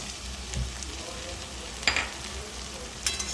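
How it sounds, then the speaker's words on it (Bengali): Chopped tomatoes and onions fry in a pan for an egg and mung dal tarka, a soft continuous sizzle with a few scraping stirs and a sharp clink, heard close and without speech. "ভালো করে ভাজা হবে"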